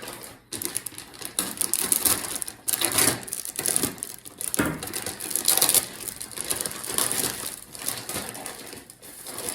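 A large Arashi Kuro Max G25/660 turbocharger being pulled out of its bag: loud, close crinkling and rustling of plastic that runs almost unbroken, with sharper crackles throughout.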